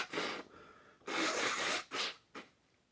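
Someone honks into a tissue in several forceful bursts, a long loud blow followed by shorter snorting puffs, close and dry with no talk.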